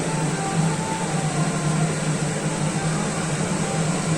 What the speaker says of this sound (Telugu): వేస్తే ఎంత క్రంచీ ఏ సౌండ్ వస్తుందో నూనెలోకి వేయగానే